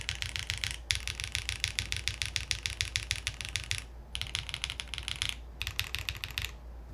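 Rapid, steady typing on a HellCat Alice-layout computer keyboard build: crisp, close key clicks in quick bursts, with two brief pauses between runs and no talking.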